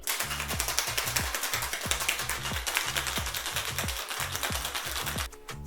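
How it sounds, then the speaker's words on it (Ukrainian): Ice rattles inside a cocktail shaker holding gin and lemon juice for a French 75, in a fast, steady rhythm of sharp clacks, shaken vigorously for several seconds before stopping abruptly. "Закриваємо шейкер та шейкуємо."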